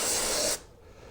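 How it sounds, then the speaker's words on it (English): Brake cleaner sprayed in a loud, steady aerosol hiss onto the frame of a 2002 Polaris Sportsman ATV, lasting about half a second before cutting off to quiet. "I'm going to hit the frame with brake cleaner"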